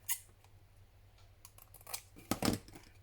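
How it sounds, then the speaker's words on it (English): Scissors trimming the corner of a paper tag for a craft planner, a few quiet crisp snips with a louder double cut near the end, close and alone without talk. "So let's trim off that corner, trim off that corner."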